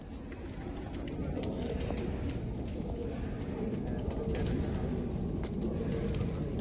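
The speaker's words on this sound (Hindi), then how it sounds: "टाइगर कबूतर ही हैं ये।" Tiger pigeons coo softly at a pigeon loft, low murmuring calls layered over steady background noise with faint, scattered chirps; no one speaks.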